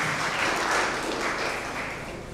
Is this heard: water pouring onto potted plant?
no